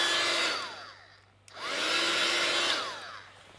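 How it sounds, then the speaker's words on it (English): Heat gun blowing over wet watercolour ink, a close, steady hiss of rushing air in two bursts with a brief gap between, no speech. "Now I'm going to take my heat gun and dry it off."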